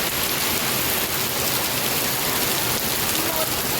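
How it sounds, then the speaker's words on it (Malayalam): Steady rain falling outdoors while people rush to a vehicle, a dense continuous hiss filling the whole stretch with no break, loud and close, with no clear voices over it. "കാരണം മഴ പെയ്യുന്നുണ്ട്."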